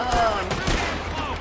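Gunfire in the video game Red Dead Redemption 2 crackles in a quick burst of several shots over game music, with people talking alongside it.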